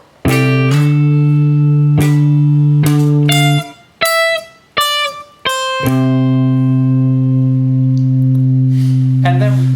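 An electric guitar plays the verse riff, sustained low notes alternating with sharp plucked higher notes and slides, clean and close with pauses between phrases.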